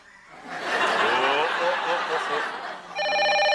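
Laughter and chuckling fill the first seconds, then a steady electronic telephone ringtone starts and continues.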